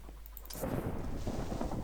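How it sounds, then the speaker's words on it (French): Lightning strikes just beside a base in Minecraft, a sharp crack followed by a deep, rumbling roll of thunder that fills the short moment. "c'était des éclairs qui tombent juste à côté de la base"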